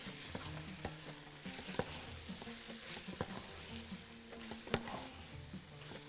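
Calamari and other ingredients sizzle steadily in a hot pan while a utensil stirs them, with scattered scraping knocks against the pan, close and fairly quiet, no voices.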